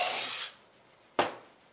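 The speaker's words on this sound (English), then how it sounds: "you're going to want to drill out a hole" A power drill bores a bolt hole in wood for a shooting bench in two short, close bursts. The first whirs for about half a second, and the second is a brief burst after a pause.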